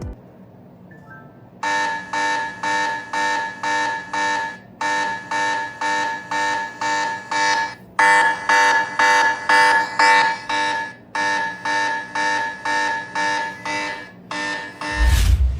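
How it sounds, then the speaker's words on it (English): A phone alarm bell from the Oukitel WP58 Pro Toolbox app rings in loud, rapid bursts of repeated electronic tones, grouped in runs separated by short gaps, then ending with a low thump. "practical tools in the Toolbox app, such as a gyroscope for navigation, magnifier, sound meter, alarm bell, plumb bob,"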